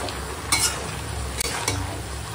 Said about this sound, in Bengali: তো এখন মাংস কষাবো